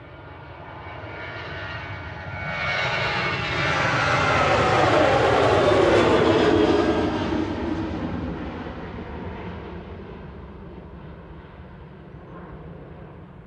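A Ryanair passenger jet departs Manchester Airport for Dublin, its engine roar swelling as it passes nearby, peaking loudly mid-pass, then fading into a lingering distant rumble.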